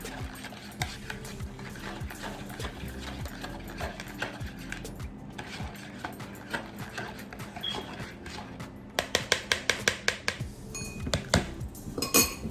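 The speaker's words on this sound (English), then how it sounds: "Stir it in. And now we have our wet batter." A utensil stirs wet batter in a bowl for frying oyster mushrooms, making scattered clinks and scrapes that turn into a quicker run of rhythmic metallic taps near the end, moderately quiet, with no talk.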